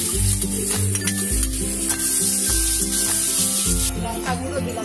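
Ground three-spice paste frying with potatoes in a pan for a thin shingi fish curry, a steady close sizzle broken by rhythmic scraping stirs, with no voices.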